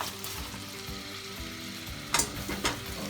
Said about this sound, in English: It will bubble and froth a lot.